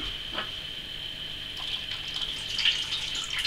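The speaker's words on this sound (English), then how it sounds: "I'm just literally going to pass it through this sieve and add some water to it." Water trickles and splashes as it is poured through a sieve over rinsed rice, a soft, steady close pour that grows slightly busier toward the end.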